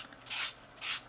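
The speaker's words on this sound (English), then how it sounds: "then you just start sanding it" Sanding clean, degreased leather on a BMW steering wheel: two soft, close rasping strokes of abrasive across the leather, each lasting about a quarter second, with no talk.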